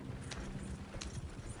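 Faint, rhythmic clip-clop of horse hooves in Red Dead Redemption 2, several steady hoofbeats at a moderate distance with a few sharper knocks, no talk over them.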